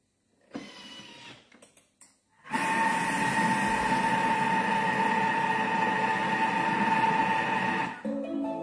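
A kitchen mixer on speed 4 whirs steadily for about five seconds, blending nuts, salt, Baileys and Tim Tams, after a few brief knocks and clatters. The motor then winds down, with a faint clunk at the end.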